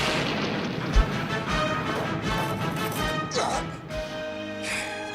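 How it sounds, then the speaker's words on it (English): Repeated low booming blasts from a shock blast cannon in the Transformers G1 cartoon over a busy, loud soundtrack, several thuds spaced roughly every half second. "Let's see how he likes my new shock blast cannon."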